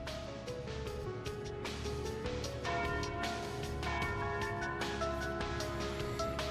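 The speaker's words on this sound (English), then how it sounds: "Ah, and there's the noon bell." Noon bell tolling in the video game Trails through Daybreak, with repeated metallic bell strikes ringing over a steady musical background, sustained and fairly loud throughout with no talking.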